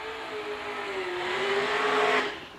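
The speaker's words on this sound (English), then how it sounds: "that exhaust is super loud on that LSA power plant" A drag car with an LSA engine at a street drag race: its loud exhaust roars steadily, building in pitch and intensity before cutting off abruptly near the end.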